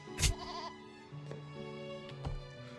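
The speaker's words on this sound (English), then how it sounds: "They're gonna chase after a goat?" Goat bleating in a TV drama scene, a sharp loud bleat at the start followed by two more drawn-out, wavering bleats, heard over a steady musical or ambient background.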